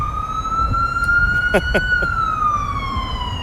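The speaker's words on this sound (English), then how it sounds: "we got this ambulance coming up the road here" A loud, steady wailing ambulance siren rises and falls slowly, close by, with brief bursts of voice-like sound partway through.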